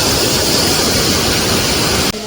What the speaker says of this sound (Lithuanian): Krioklys čia turbūt tas didžiausias.